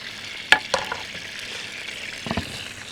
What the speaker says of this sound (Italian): fate adesso ben sciogliere, amalgamare l'aglio dentro l'olio, così. Anzi, metteteci pure un goccetto d'acqua